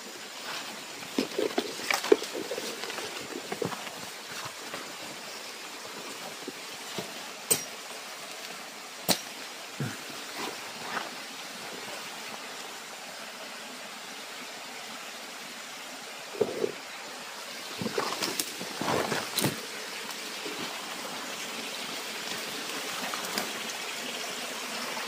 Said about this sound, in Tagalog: Yan pong sapa yung tintukoy ko.